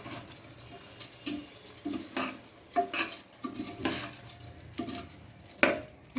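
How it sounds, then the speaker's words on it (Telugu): Basmati rice being stirred slowly in a pot for tomato rice, giving a run of soft scraping and clinking utensil strokes against the metal at an uneven rhythm, close and moderately quiet. "బాస్మతి రైస్ వేసేసుకొని మెల్లగా కలుపుకోవాలి."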